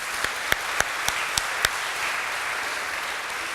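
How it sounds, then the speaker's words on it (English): Applause from an audience at an evening climate change event, starting as a few sharp, separate claps that fade into a soft steady patter. "So I think a round of applause for Resilience South."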